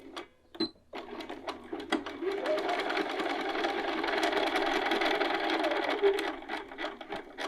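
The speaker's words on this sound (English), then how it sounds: "Now we're going to head over to our machine and we're going to sew right along these edges." A sewing machine sews a half-inch seam along pocket fabric edges in one continuous, moderately loud run of stitching, with a few clicks and handling noises at the start and end.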